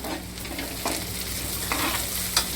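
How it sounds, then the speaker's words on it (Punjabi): Onions and green chilies sizzle steadily in a pan for a milk-based green chili dish, with a few spoon scrapes from stirring over the constant close frying hiss. "ਹੁਣ ਇਹਨਾਂ ਨੂੰ ਭੁੰਨ ਲਾਂਗੇ ਚੰਗੀ ਤਰ੍ਹਾਂ ਮਿਕਸ ਕਰ ਦਾਂਗੇ"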